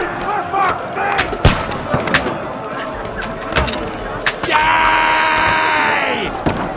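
Gunfire and combat chaos in Kingdom Come: Deliverance II, with sharp shots and impacts cracking at irregular intervals over shouting voices, then a sustained bright roar through the last couple of seconds.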